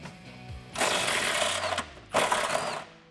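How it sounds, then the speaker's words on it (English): Impact gun removing a downward-facing 13 mm bolt from an exhaust isolator under a 2018-2020 Mustang GT: two close, loud rattling hammering bursts, each about a second long, separated by a short pause. "I'm gonna use an impact gun for the bottom one."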